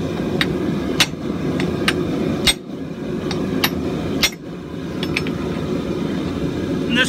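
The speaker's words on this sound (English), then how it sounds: "we're welding all those areas at once rather than just where a single hammer blow would be hitting" Hammer blows land on a flatter held against hot steel during forge welding at an anvil, sharp ringing strikes spaced about half a second to a second apart, with a brief spoken word among them.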